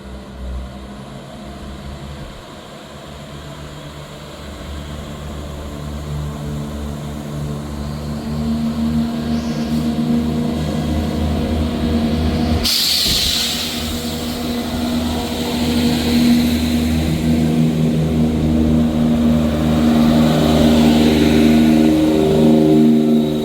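A ScotRail passenger train departing Dalmeny station, its engine note building and rising steadily as it pulls away, with a sharp clank partway through and no talk.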